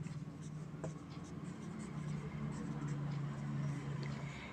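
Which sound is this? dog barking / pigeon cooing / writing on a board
writing on a board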